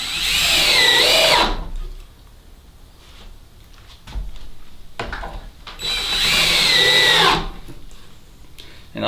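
A power drill drives screws into a wooden disbudding box for goats: two loud whirring bursts a few seconds apart, with quieter handling knocks and clunks between them.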